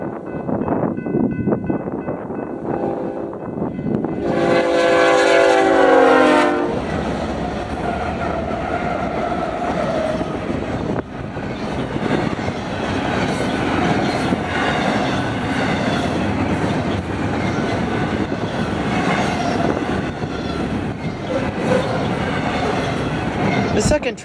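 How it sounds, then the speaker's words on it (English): An eastbound BNSF Q freight train, led by locomotive 6539, rolls past on the Needles subdivision with a horn blast early on, then a long loud rumble of wheels and cars, with some talk underneath. "the first one being an eastbound BNSF Q train with BNSF 6539 leading."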